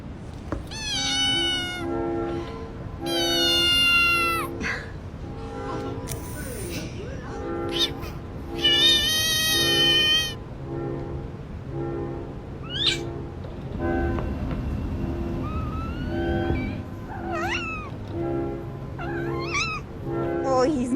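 A cat meows repeatedly in drawn-out, wavering cries, loud and close, mixed with shorter squeaky calls and other background sounds; a voice is heard briefly.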